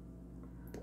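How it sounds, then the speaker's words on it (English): Oil being poured into chocolate cake batter in a bowl: a soft, quiet liquid squish and drip, brief and close, with a small splashy burst near the end and no talking. "Then I pour in the milk and oil too."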